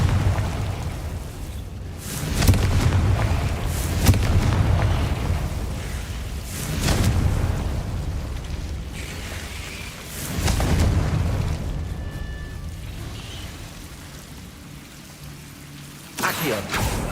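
Confringo blasting spell in Hogwarts Legacy erupts in a string of deep, booming explosions with rumbling tails, spaced a few seconds apart and fairly loud.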